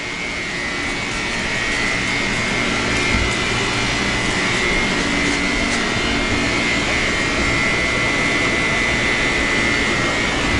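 A gas generator runs with a steady, loud, unbroken engine drone and mechanical whine that holds at the same level throughout, with no voices over it.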